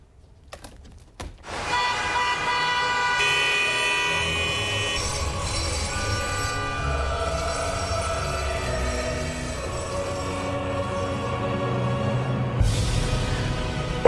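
Rerouted city traffic heard through an open window in a town centre with nearby hotel demolition forms a loud, dense rumble with horn-like tones and a constant roar that persists throughout.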